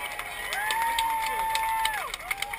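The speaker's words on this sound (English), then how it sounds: "How about a round of applause?" A crowd cheers and claps for the contestants at an amateur hamburger eating contest, a steady wash of noise with scattered claps and a whistle-like tone running through it.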